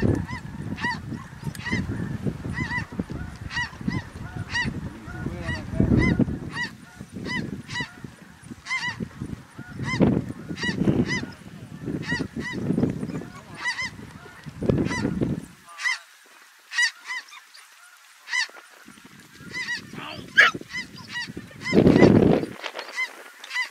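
Large flock of snow geese honking steadily during a waterfowl hunt, dense overlapping calls near and far, with a few louder low thumps, likely shots, rising above the chorus.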